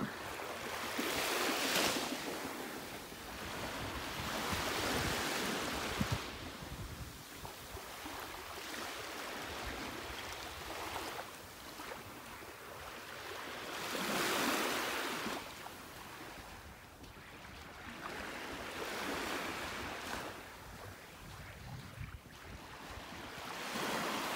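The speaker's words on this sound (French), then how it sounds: "Entendre les vagues." Ocean waves rolling onto a beach in steady surges, each swell building and washing out, with wind rumbling across the microphone.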